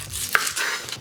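A knife chops vegetables on a cutting board for quick vegan meal prep, a few close, crisp strikes over about a second, with no voices.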